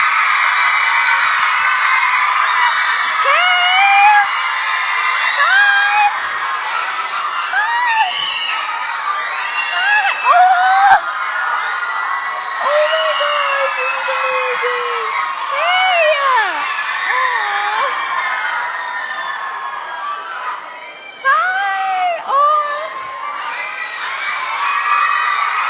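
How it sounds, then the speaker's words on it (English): A conference audience screams and cheers in a long, loud burst of high-pitched whoops and shrieks, rising and falling over about twenty-five seconds with many overlapping young voices. "Just get your scream out."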